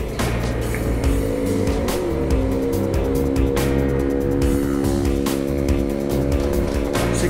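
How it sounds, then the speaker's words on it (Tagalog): A Honda Airblade 160 four-valve scooter accelerates from a standstill toward 100, its engine note climbing in steady stepped pitch under loud, continuous wind rush close to the rider. "Acceleration test natin 0 to 100."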